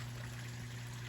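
Small backyard pond waterfall trickling at night, a steady, faint splash of running water with a low mechanical hum beneath it, continuous and unbroken.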